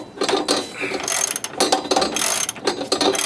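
Ratchet wrench clicking rapidly in repeated bursts while tightening a bolt on a shock absorber being installed on a 2001 Camaro Z28, close and fairly loud with brief pauses between strokes.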